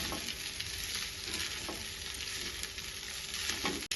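Cold leftover rice for egg fried rice is stirred in a hot pan, giving close, steady sizzling with scraping and turning noises throughout and no voices.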